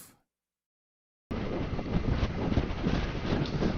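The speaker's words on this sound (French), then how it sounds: "il y a du vent aujourd'hui" After a brief silence, strong wind roars and buffets steadily while riding a 125cc motorcycle on the motorway, a dense rushing noise that continues to the end.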